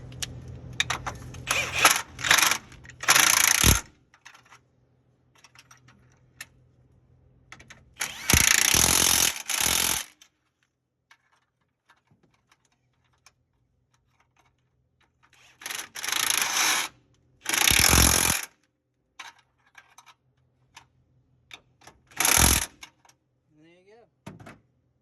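An impact wrench driving bolts during a truck engine swap fires in several loud, short bursts separated by quiet pauses, each a harsh rattling whir close by.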